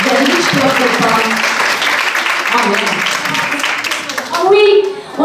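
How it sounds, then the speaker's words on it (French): An audience at the Forma Show 2025 event claps loudly and continuously, a dense wash of applause with children's voices and other chatter mixed in, swelling briefly near the end. "Applaudissez très fort."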